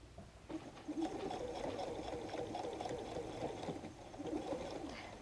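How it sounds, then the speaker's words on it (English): A sewing machine stitches through a messenger bag, a steady close mechanical whir running continuously with slight surges in speed. "I start sewing"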